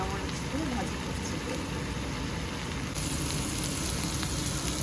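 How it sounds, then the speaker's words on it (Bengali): Red leafy greens fry with onion, chili and garlic, a faint continuous sizzle in the pan, with talk in the background. "শাক ভাজি, পেঁয়াজ, মরিচ, রসুন, মরিচ দিয়ে ভাজি করছি"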